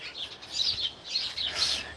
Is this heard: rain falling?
no